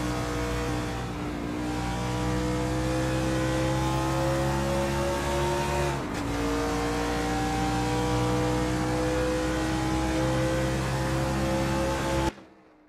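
NASCAR race cars lapping the Motegi circuit in Assetto Corsa, engines holding a loud, steady drone with rising pitch as they accelerate, a brief dip near the middle, then cutting off abruptly at the end.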